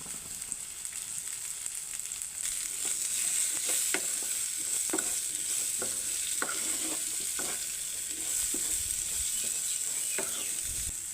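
Sliced onion goes into a pan of bitter gourd already frying in oil, with a steady sizzle throughout and a series of short scraping stirs, no voices.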